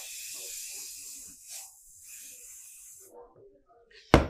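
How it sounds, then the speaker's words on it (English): A spray can of adhesive hisses in a steady stream onto template plastic held over a trash can, the spray stopping and starting in short bursts, with soft handling noises and a sharp clatter at the end. "So now I've sprayed it with adhesive."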